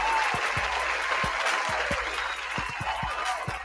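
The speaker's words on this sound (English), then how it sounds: "So I'd like to issue a round of applause to you all." Audience applause fills the room as steady, dense clapping with a few sharper claps standing out, continuous and fairly loud throughout.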